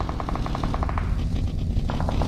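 Gunfire from the PUBG Mobile video game: a rapid automatic burst of about ten sharp shots, a short pause, then another quick burst near the end, all loud and close.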